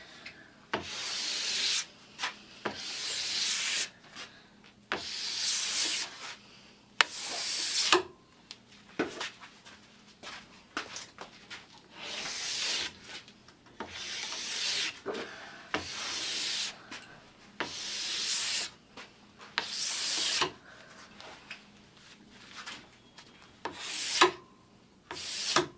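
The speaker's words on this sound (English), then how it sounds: "pushing the scraper down the length of the ski" A plastic scraper pushed down the length of a ski, shaving off glide wax in even ribbons; repeated long, rasping strokes sound close and fairly loud, separated by brief pauses, with no voices.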